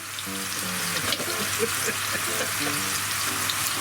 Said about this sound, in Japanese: しっかりめに焼き目をつけてあげてください